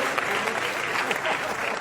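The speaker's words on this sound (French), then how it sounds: "applaudissements pour toutes ces personnes, toutes ces personnalités" An audience at the Miss DR Congo 2016 pageant final applauds steadily throughout, a dense continuous wash of clapping from a large crowd with no pauses.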